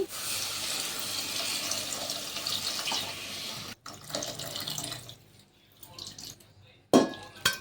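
Tamarind extract is poured into an eggplant and dried fish curry, heard as a running liquid splash that tapers off, followed by clinks and a brief knock.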